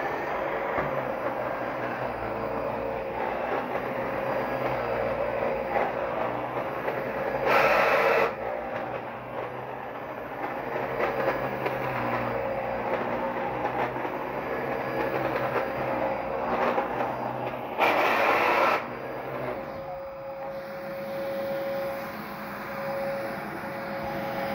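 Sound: Dyson DC-17 vacuum cleaner running

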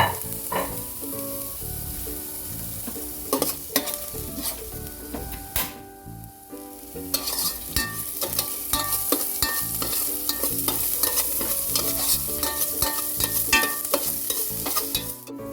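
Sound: shallots, green chili and garlic sautéing in a pan

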